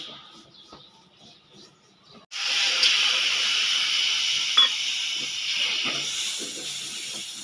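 Semolina (suji) sizzles and hisses steadily in a hot pan for a savory Bengali jhal suji, starting abruptly after a quiet stretch with a few faint clinks, and stays loud to the end.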